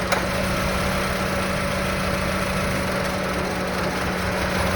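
A Honda Civic FD engine suffering a misfire runs steadily at close range during an ignition coil check, a constant idle drone with no breaks.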